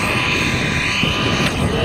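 A fighter plane roars overhead, a loud, steady engine drone with a broad rushing hiss that holds throughout.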